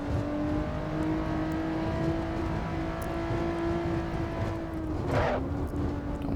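A Honda NSX engine in the racing game Assetto Corsa hums at a steady, moderate pitch, then briefly dips and shifts near the end as if changing gear, heard alone at a low, even level.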